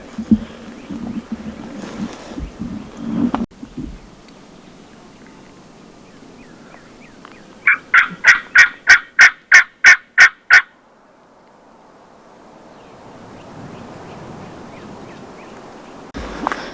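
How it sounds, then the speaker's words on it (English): A Rio Grande wild turkey gobbles from a distance in open South Texas country: one rapid burst of about eight sharp, rattling notes, clear and alone, with quiet rustling and wind before and after. "It just gobbled again."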